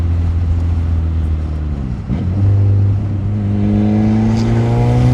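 A car engine pulls hard in third gear, its steady loud drone rising in pitch as it accelerates, with a brief dip before it climbs again.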